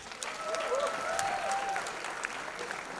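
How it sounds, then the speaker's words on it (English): Soft, fairly distant applause from an audience at a film school convocation ceremony, a continuous patter of many hands with a few whistles rising above it and murmured voices in the background. "a round of applause for yourselves, please"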